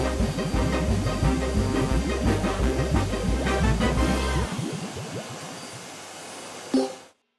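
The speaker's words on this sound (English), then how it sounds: "I won't fill the vacuum too much." A cartoon vacuum cleaner runs with a loud, steady whirring drone, then winds down over its last few seconds before cutting off.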